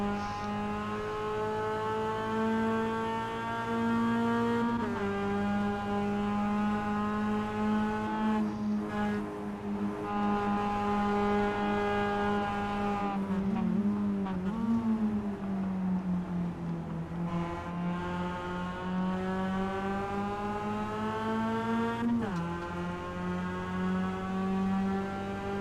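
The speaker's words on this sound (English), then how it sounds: "Cars get very loose through turn 3 there." Race cars in a roadster race sweep through a turn, a steady loud engine drone whose pitch rises and falls as they hold throttle and shift, continuous and close for the whole stretch with no talk.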